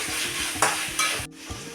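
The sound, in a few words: tomato sautéing in a pan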